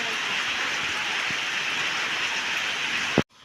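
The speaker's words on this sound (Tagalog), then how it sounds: "Siguro po dinig niyo po sa tunog ng bubong ang patak ng ulan." Rain falls steadily on a house roof, a dense even patter close by that carries on throughout and then cuts off abruptly just before the end after a brief knock.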